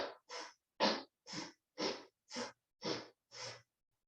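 Eight short sipping inhales, alternating between nose and mouth, each a brief breathy draw of air separated by small even pauses, close and clear with nothing else around.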